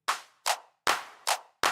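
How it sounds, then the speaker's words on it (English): A punchy clap sample for a UK garage beat, auditioned five times in a quick, even row, each hit a crisp, bright smack with a short tail, close and dry with nothing else playing. "Let's find a good clap."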